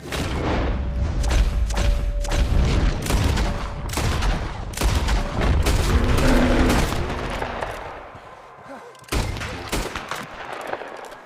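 Frontier-style gunfire in Red Dead Redemption 2, a rapid volley of close, loud shots packed together for several seconds, then thinning out before a final sharp burst near the end.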